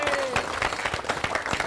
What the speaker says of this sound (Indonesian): Kita panggilkan tepuk tangan buat Mbak Lisi.